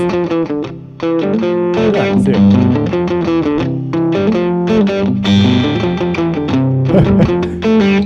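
Electric guitar played through a Vox Valvenergy valve distortion pedal, crunchy, strummed chords and short riffs ringing loud and sustained, with a brief pause near the start.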